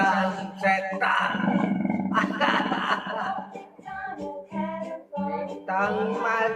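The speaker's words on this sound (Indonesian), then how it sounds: "ringtone macan setan." A spooky ghost-tiger roar ringtone plays loud and alone, a run of harsh, growling roars in repeated bursts separated by short gaps.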